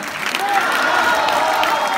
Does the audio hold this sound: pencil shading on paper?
no